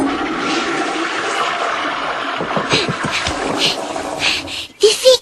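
Toilet flushing and household fixtures draining, a loud steady rush of water that surges and gurgles near the end, heard close up and alone.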